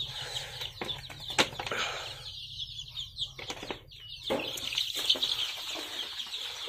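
Local breed chickens cluck and squawk nearby on a farm, climbing onto a feeder, with bursts of wing flapping and scuffling, lively and uneven.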